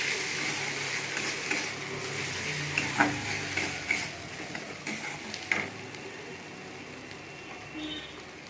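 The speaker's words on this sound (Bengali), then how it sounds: "দিয়ে মশলাটা ভালো করে আমি কষে নেব।" Turmeric, chili powder and a little salt sauté in a pan for a Bengali chicken curry with potatoes and papaya, giving a low steady sizzle with occasional stirring scrapes and soft clinks.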